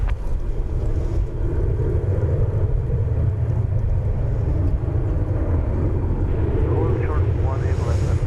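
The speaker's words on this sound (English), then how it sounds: "American Flight 3114 to Silao in Mexico is getting ready to roll. To 737-800." An American Airlines Boeing 737-800 rolls for departure on a DFW Airport runway, a steady loud engine roar and rumble mixed with wind buffeting, with a voice talking over it.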